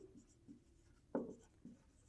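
A pen scratches on paper while math working is written out, a few short faint strokes close to the microphone in an otherwise quiet room.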